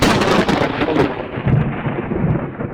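Rumbling thunder rolls through a storm in the video game Midnight Scenes, a loud, dense low roar with rain hiss layered over it, swelling and ebbing without a break.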